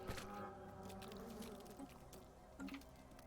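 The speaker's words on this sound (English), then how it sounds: "I love how it sounds like buzzing flies and slopping mess." Buzzing flies and a wet, slopping mess sound from the strategy game Stellaris, a steady faint insect drone with a couple of squelchy blips.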